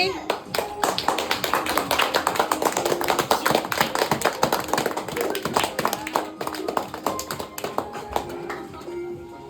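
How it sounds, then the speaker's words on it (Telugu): A group of people, including small children, clapping loudly on request, with a quick, uneven burst of many sharp claps that carries on for several seconds and gradually thins out toward the end. "అందరూ గట్టిగా క్లాప్స్ కొట్టండి."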